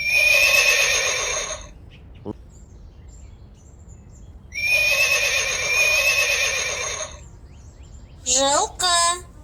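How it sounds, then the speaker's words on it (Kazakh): A horse lets out two long, loud, shrill whinnies with a quiet gap between them, followed by a pair of short, sharp squealing calls. "Жылқы."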